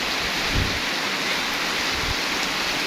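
Heavy rain pours down in a steady, dense roar during a night downpour in Roxas, Palawan, with a couple of low rumbles underneath and no voices.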